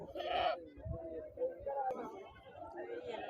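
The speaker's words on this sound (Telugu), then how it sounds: "ఈ నల్ల పోతులు ఉన్నాయి ఫ్రెండ్స్ మేకపోతులు" Billy goats at a weekly Saturday livestock market in Dubbaka bleat in short, quavering calls at close range, with faint market clinks and murmur in the background.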